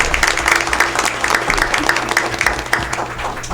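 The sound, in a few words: applause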